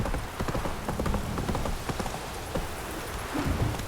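Horse Roach galloping in The Witcher 3 video game, rapid rhythmic hoofbeats thudding steadily throughout, close and fairly loud, with a soft patter like rain underneath.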